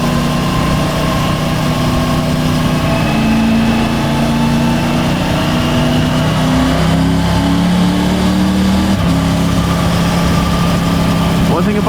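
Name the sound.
motorcycle engine while riding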